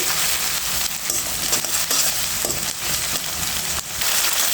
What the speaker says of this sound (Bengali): পেঁয়াজ কুচিটা দিয়ে দিয়েছি। এখন একসাথে এটা ভেজে নেব।